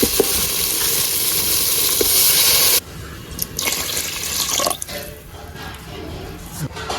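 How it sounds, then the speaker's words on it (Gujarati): Water pours with a steady rushing splash into a cooking pot holding a sizzling mixture for a Gujarati lepta dish, then stops abruptly, leaving clatter and intermittent bubbling sizzle. "હવે તેમાં આપણે નાખી દઈશું પાણી"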